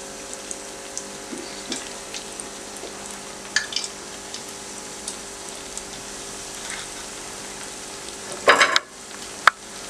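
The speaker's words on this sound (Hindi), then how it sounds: "आप किसी खुले पैन में या कढ़ाई में आप 2 कप तेल को गर्म करें, और अच्छी तरह से गर्म हो जाए तो फिर इसमें ये स्लाइसेस डाल दें।" Bread slices fry in hot oil in a kadhai with a faint, steady sizzle and scattered soft crackles, ending in a louder burst of spitting and a sharp clatter near the end.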